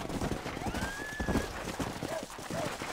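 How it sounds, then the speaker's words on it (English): Horse hooves clip-clop at a run in the video game Red Dead Redemption, with a drawn-out whinny rising over the rhythmic galloping and scattered game sounds behind. "Hit your horse and wait for me by the stable."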